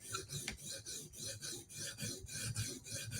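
A knife edge is ground on a coarse first whetstone, working the heel of a new factory edge with a steady, close rasping scrape in quick back-and-forth strokes.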